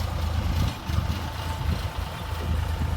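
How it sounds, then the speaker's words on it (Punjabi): Tractor engine running steadily at close range with a low, throaty idle-like rumble, a brief dip in level near the start then continuing evenly throughout. "ਚਲੋ ਹੁਣ ਸਰਦਾਰ ਜੀ ਚਲਾਉਣ ਲੱਗੇ ਟਰੈਕਟਰ"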